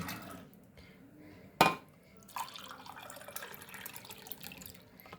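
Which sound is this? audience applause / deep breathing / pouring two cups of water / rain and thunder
pouring two cups of water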